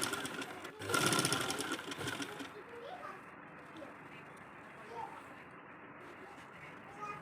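A sewing machine stitches a round neckline on a garment, a loud burst of rapid whirring near the start giving way to quieter stitching and handling noise, with a voice speaking throughout.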